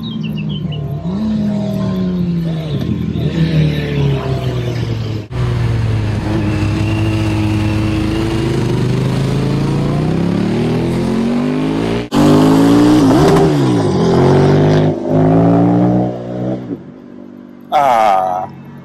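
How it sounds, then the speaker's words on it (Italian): Motorcycles on a mountain road at Colle del Nivolet in Gran Paradiso National Park, engines revving and rising and falling in pitch as several bikes pass, loud and steady through most of the stretch, with a brief burst of birdsong near the end. "Il suono delle moto in montagna."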